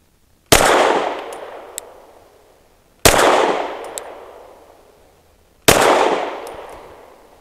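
An EAA Girsan Witness 2311 pistol fires three 100-grain Hornady Critical Defense Lite rounds, about two and a half seconds apart. Each loud, sharp report rings out and decays, followed by a faint metallic clink.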